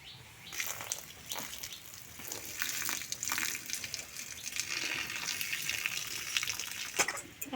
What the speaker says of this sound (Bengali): মিনাদের কলে চলে এসেছি বাসন মাজার জন্য ঠাকুর ঘরের।